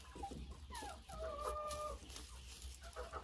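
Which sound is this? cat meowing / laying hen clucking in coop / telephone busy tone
laying hen clucking in coop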